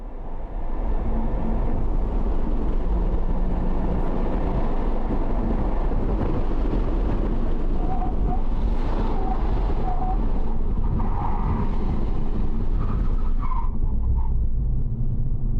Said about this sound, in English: And then listen to the car.